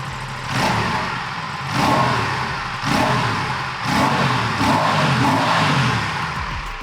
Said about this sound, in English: this is a really nice sounding bike out on the street